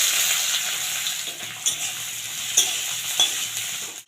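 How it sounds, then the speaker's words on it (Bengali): Chopped onion frying in a pan with a little sugar for spicy chicken, a steady close hiss of sizzling oil with a few brief stirring clinks and scrapes, no talking. "পেঁয়াজটা আমার সুন্দরভাবে ভাজা হয়ে গেছে"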